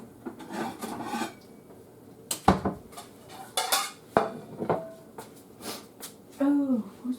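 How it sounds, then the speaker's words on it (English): Dinner being served onto plates at home, with dishes, pots and cutlery clattering and scraping in irregular bursts close by, someone talking between the clinks. "So let's get a plate and let's serve ourselves. And I'll serve hubby a plate."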